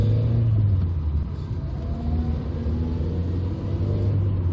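Steady engine drone from a 1996 Toyota Paseo 1.5 (Cynos) heard from inside while driving, a constant low rumble with a faint rise in pitch as it pulls, continuous and fairly loud, no one talking.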